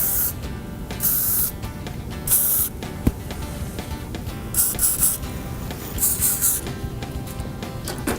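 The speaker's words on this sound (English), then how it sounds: "I'm just gonna spray into the hair" Several short hissing bursts of hair spray from an aerosol can spray into hair in quick succession, close up, over a low background rumble.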